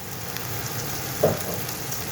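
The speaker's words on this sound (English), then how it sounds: "So I'm cooking that tomato paste out now" Tomato paste with naga chili sauce frying in a pan, a brief soft continuous sizzle with one small stirring knock midway.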